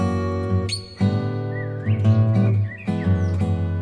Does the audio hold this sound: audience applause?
no